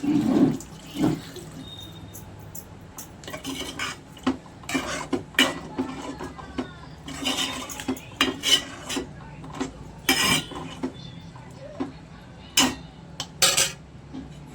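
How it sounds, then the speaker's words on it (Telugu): Water is poured into a pan of egg and drumstick curry with tamarind juice and chilli powder, the splashing broken by repeated sharp clinks and scrapes of a metal utensil against the pot, close and moderately loud. "అలాగే కొన్ని నీళ్ళు పోసుకుందాం."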